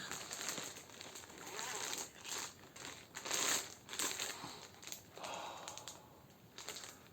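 Cardboard and paper crinkle and rustle up close as an unexpected delivered package is opened, a series of uneven crackling handling sounds with brief pauses between them.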